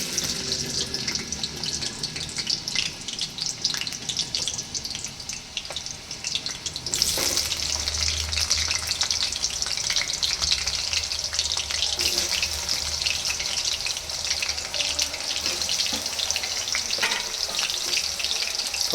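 Potatoes for aloo matar sabji sizzle in a pan with a steady, loud hiss throughout, punctuated by occasional stirring scrapes, with no talking.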